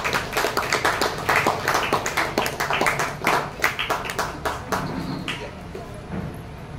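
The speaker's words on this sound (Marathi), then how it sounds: "टाळ्या वाजवून त्यांचं स्वागत करूया आपण." An audience at a lecture event applauds to welcome a speaker to the stage, a dense run of many overlapping hand claps, loud and continuous, thinning slightly toward the end.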